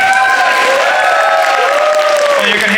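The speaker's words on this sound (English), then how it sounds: "you can hear from the crowd reaction" A crowd at a gaming expo applauds and cheers steadily for a returning classic Tetris player, loud and sustained throughout, with voices mixed into the clapping.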